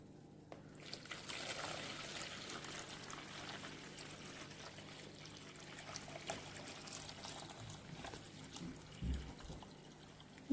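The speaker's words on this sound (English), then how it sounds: "I'm going to take my kettle and I'm going to pour my water in now." Boiled water from a kettle is poured into a jug holding stock cubes, a quiet, steady trickle running for several seconds with a soft knock near the end.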